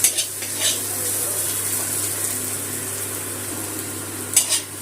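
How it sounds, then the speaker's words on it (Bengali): Green chillies with onion and garlic sizzle softly in a pan, with a couple of brief spoon clinks against the metal at the start and end. "কাঁচা লঙ্কাটা একটু গ্যাসটা বাড়িয়ে নিচে একটু ভেজে নিলাম"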